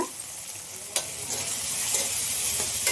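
Coriander powder and garam masala fry in coconut oil for a green gram dal tadka, a close steady sizzle broken by spoon scrapes and stirring clicks.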